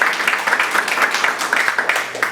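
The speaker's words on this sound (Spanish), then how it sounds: "Un fuerte aplauso para todos." An audience at an anniversary ceremony for Jorge Basadre's birth claps in a dense, loud burst of applause, sustained and close throughout.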